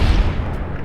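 A single heavy gunshot in Fallout: New Vegas, fired during a fight with a deathclaw. It is a loud, close blast with a deep low boom at the start and a rumbling tail that fades out.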